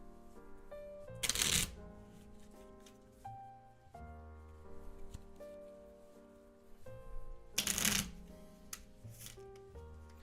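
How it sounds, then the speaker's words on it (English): Playing cards are shuffled in two quick riffling bursts at a desk, close and crisp, separated by quieter card handling and soft background tones, with no talking. "I'm not great at shuffling cards."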